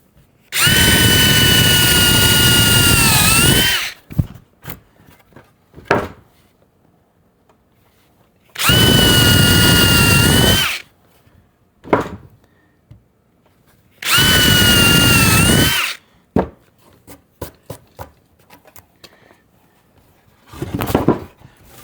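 A power drill bores countersunk holes in wood while a rotten basement stair landing is being repaired. There are three loud, steady whirring bursts of about two seconds each, separated by quiet pauses with clicks and handling knocks.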